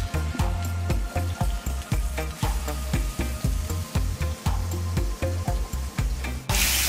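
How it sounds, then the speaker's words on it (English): Steaks sear in a hot pan with a loud, dense sizzle, broken by rapid rhythmic thumps and scrapes of basting or pan movement, with a sharp burst of spitting at the end. "Once you drop your steaks in, you want to get a nice sear."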